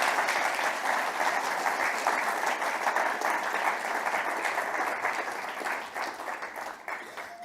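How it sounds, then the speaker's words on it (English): An audience at a World Wildlife Day session applauds its speakers, a dense, steady round of clapping that gradually tapers toward the end. "I would just ask if I could have one round of applause for all of our speakers in this session."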